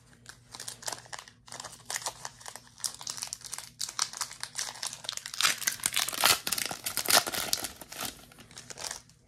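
A foil wrapper on a Celebrations trading card pack crinkles and tears as it is opened, a dense, close run of crackling rustles that grows busier and louder toward the middle, with no voices.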